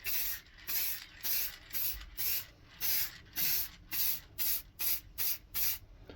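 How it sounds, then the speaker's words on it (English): Short bursts of spray stain misting teak finish onto a plywood scroll-saw cutout and its backer, about a dozen gentle even puffs in a steady rhythm, close and fairly quiet. "Not forgetting the teak stain on the backer as well. I will go outside with this in a minute, but for now, just gentle coats like so."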